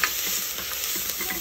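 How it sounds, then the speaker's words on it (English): Onions caramelizing in a pot for vegetarian bean soup give off a brief, steady, close frying hiss with faint stirring underneath. "So you're just allowing the onions to caramelize"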